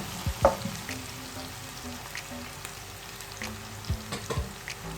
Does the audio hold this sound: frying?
yes